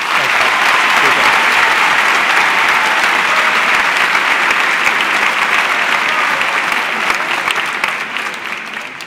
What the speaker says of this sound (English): Round of applause for Matt